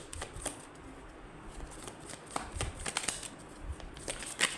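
Tarot cards riffled and shuffled by hand in bursts of crisp flicking, close and moderately quiet, with no talking.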